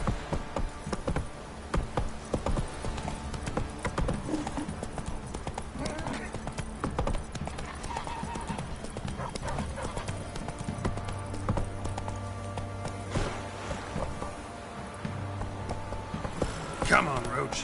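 Roach, the horse in The Witcher 3, gallops with a steady, fast clip-clop of hooves close by that runs throughout, and a brief whinny comes partway through.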